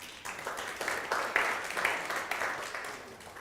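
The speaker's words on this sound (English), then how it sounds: "So if you want to give them a round of applause" Town hall audience giving a round of applause, a fairly soft, steady patter of many hands clapping at moderate distance for a few seconds, with a faint voice mixed in.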